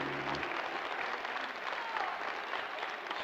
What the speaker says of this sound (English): Ripple of applause for that 13 dart leg.